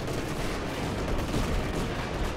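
Heavy artillery barrages in Company of Heroes 2, a dense continuous rumble of distant booms and gunfire rolling without pause, loud and low throughout.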